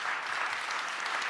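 An audience at a finance and investment conference, URC-2024, claps in a brief, even burst of steady applause with no voices over it.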